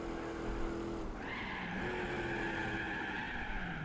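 Tires squealing in a sustained skid as a car drifts through a turn in Gran Turismo 4, the screech rising in pitch partway through over a steady engine drone, with no talking.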